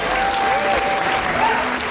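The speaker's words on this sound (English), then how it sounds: "Round of applause, you have roommates." Audience applause at a stand-up comedy show, a steady dense wash of clapping filling the room throughout, with faint voices mixed in.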